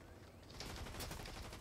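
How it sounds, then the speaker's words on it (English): Gunfire in Fortnite Battle Royale, a quick burst of rapid shots that grows louder after a quiet start, crackling in close succession. "there's someone shooting"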